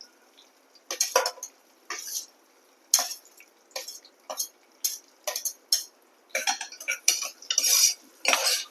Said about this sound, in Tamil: நல்லா வதக்கி விடுங்க.